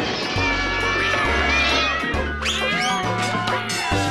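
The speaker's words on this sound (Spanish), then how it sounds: "Doña Gata Vieja trinchó por la oreja al niño ratico, maullándole" A cat meows several times over sustained background music, with the calls rising and falling in pitch.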